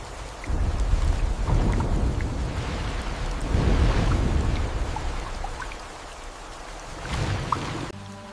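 Steady heavy rain pours through the Amazon rainforest, with low rumbles of thunder swelling in broad waves and scattered drips standing out above the downpour, no voices present.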